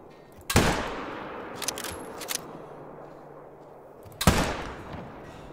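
Two loud 7 mm hunting-rifle shots in a red deer hunting video game, about four seconds apart, each a sharp crack with a decaying echo, and faint clicks between them.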